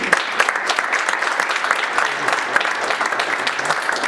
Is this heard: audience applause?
yes